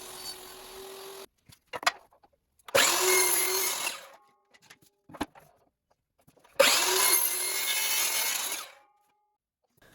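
Power saw cutting wooden top and bottom panels for a dwarven-style treasure chest, two loud sustained cuts of around one and two seconds separated by pauses filled with small knocks and handling noises.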